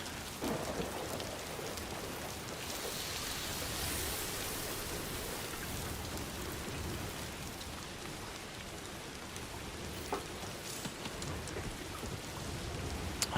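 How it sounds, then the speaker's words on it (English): Steady rain falls in the Death Stranding 2 game world, a continuous broad hiss of drops on the ground with a faint low rumble beneath, soft and even throughout with no voices. "It's raining."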